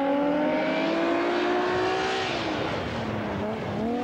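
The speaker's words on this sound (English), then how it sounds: "The engine note signifies a gear selector problem. The car is jammed in gear" A 1987 Rally of Sweden rally car, jammed in gear from a gear selector problem, holds a strained, steady engine note that sags slightly in pitch, heard alone at moderate distance.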